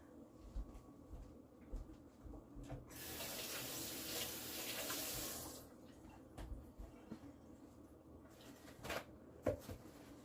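Jar rings being washed under a running kitchen tap, with faint clinks and handling, then a few seconds of steady water flow into the sink before quieter rattling resumes.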